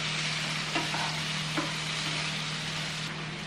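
Tomatoes added to onions and garlic paste frying in a pan, a steady close hiss of sizzling with a couple of soft stirring knocks and a constant low hum underneath.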